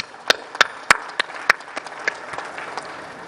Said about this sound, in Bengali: আমরা তাদের জন্য একটা জোরে হাততালি দিই।